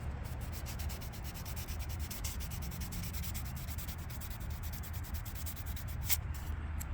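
Hand sanding a pink diecast car body with 320-grit sandpaper: a steady, close scratchy rubbing that runs continuously in quick strokes with no voices.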